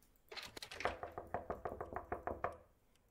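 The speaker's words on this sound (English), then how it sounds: "Oh, someone's knocking on the door." Knocking on a door in the video game Hazing Night Shift: a steady run of about ten sharp, evenly spaced raps, close and fairly loud, with no voices over them.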